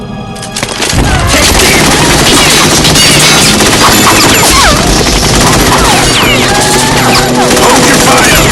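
Heavy gunfire erupts in Metal Gear Solid 2, a dense, continuous automatic barrage of loud cracking shots that starts abruptly after a brief quieter moment and sustains at full volume with clattering crashes mixed in.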